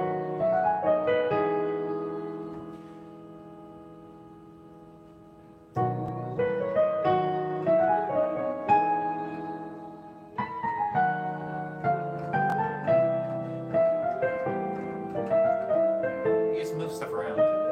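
Piano playing a song transposed down to a lower key, with ringing chords and melody notes, a brief fade around the middle, then fuller phrases resuming with steady rhythm.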